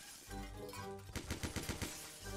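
Rapid burst of gunfire in a video game as objects are shot to pieces, about a second of close, loud, evenly spaced shots over a steady game background.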